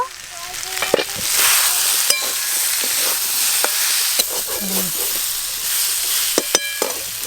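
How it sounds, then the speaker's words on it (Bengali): Potatoes with turmeric and salt fry in an uncovered pan and are stirred, a loud continuous sizzle punctuated by scattered scraping and clinking of a spatula against the pan. "চাপা খুলে একবার নেড়ে নেব"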